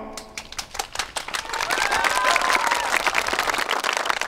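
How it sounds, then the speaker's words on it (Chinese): An audience at a school musical staged by teachers and students claps, starting as sparse separate claps and building into dense, continuous applause with faint crowd murmur. "请大家再一次用热烈的掌声欢迎他们的表演"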